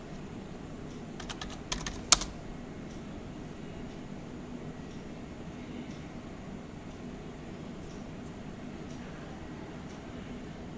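Keys clatter in a short burst of typing a terminal command on a computer keyboard, a quick run of clicks near the start over a steady low background hum, then only the hum.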